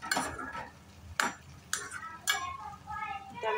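A metal lid is lifted off a pot of simmering yardlong beans in a home kitchen, giving a few sharp clinks and scrapes spaced apart, fairly close, with no talk in between.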